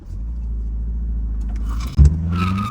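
A 2024 Volkswagen Jetta GLI on new tires launches from a red light: a low steady engine rumble at rest, then a sudden loud surge of revs as the car takes off and accelerates, the engine note climbing.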